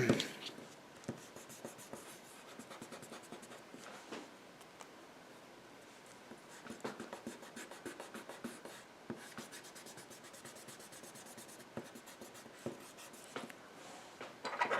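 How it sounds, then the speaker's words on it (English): A pencil drawing on paper is worked over with an eraser, giving quiet, close scratchy rubbing in irregular bursts with brief pauses and no talk. "I'm going to erase some of the lines that are in the way before I start filling this in."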